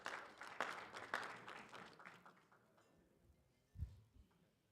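An audience applauds a new bench press champion at an African classic powerlifting and bench press championship. Dense clapping starts loud and thins out over a few seconds, leaving scattered claps and a low thump near the end.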